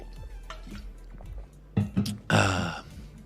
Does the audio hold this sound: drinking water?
yes